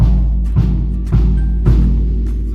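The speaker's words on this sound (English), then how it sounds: "so if I take the bass drum mallet and play it," Bass drum struck with a bass drum mallet in a school band setting, three or four deep, booming hits that ring on under a constant low rumble.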